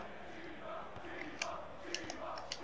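A football crowd chants in FIFA 14 on PS2 during an away match: a faint, continuous wash of massed voices with rising and falling sung phrases and a few sharp clicks on top.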